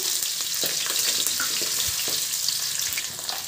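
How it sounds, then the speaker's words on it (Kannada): Garlic and finely chopped ginger frying in oil in a pan, a steady dense sizzle throughout with small crackles and pops, close and fairly loud, no talking. "ಬೆಳ್ಳುಳ್ಳಿ ಹಾಕ್ಕೊತಾ ಇದ್ದೀನಿ. ಮತ್ತು ಶುಂಠಿ 2 ಸಣ್ಣದಾಗಿ ಹಚ್ಚಿಟ್ಟಿರೋದು ಹಾಕ್ಕೊತಾ ಇದ್ದೀನಿ."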